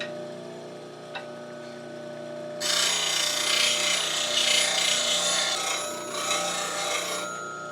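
Skew chisel bevel being sharpened, moved back and forth against a lathe tool rest, a steady harsh rasping grind that starts abruptly and continues for several seconds over a low machine hum.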